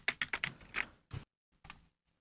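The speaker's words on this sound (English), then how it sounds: "I'm pressing Control-C, Control-V to copy it" Computer keyboard keys tapped in a quick burst of about half a dozen clicks, then a pause and two more separate presses, close and fairly quiet with no talking.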